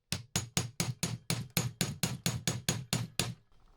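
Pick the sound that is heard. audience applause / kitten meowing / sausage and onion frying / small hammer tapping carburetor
small hammer tapping carburetor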